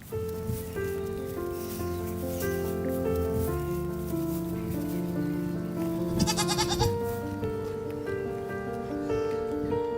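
A goat bleats repeatedly in nasal, wavering cries, with several calls following one another over a quiet background.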